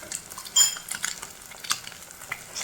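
Beaten eggs fry and get stirred in a pan, with a bright crackling sizzle and repeated scraping strokes of a spatula, close and busy, no voices.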